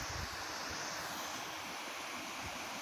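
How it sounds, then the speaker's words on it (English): A winter waterfall roars as a steady, broad wash of rushing water, continuous and fairly close, with wind buffeting the microphone. "there's the waterfall over here"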